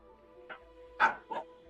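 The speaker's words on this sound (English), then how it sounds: "What, dogs?" Dogs giving a few short barks and yips in quick succession, fairly close but brief, against an otherwise quiet indoor background.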